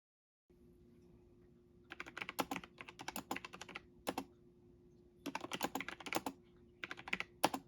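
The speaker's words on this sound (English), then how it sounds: "next I'm going to do a little keyboard sound test" Bursts of rapid, crisp key clicks from a Freewrite Alpha word processor keyboard, typed in several quick runs with short pauses, close up over a low steady hum.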